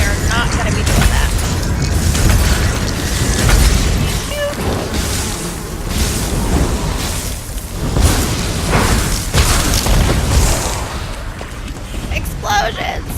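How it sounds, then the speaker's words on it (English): Loud booming blasts and rumbling detonations in The Elder Scrolls Online come in repeated bursts over a dense, noisy din of mechanical clatter. "Explosions! Yes, explosions are good."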